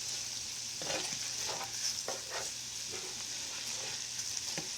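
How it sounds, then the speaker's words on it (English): Vegetables and meat sauté in a pan for fried Southern cabbage, giving a steady close sizzle with repeated scraping and stirring strokes from a utensil and no talking. "And you saute everything."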